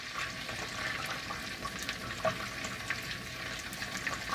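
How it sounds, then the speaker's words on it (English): Melted butter bubbles and fizzes in a pan as vanilla is stirred in, a steady soft sizzle with faint scraping of the spoon, close but quiet throughout. "now the butter is kind of boily. It's bubbling. I'm going to add 1 teaspoon of vanilla. And then I'm going to stir in."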